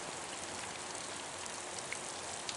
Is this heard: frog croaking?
no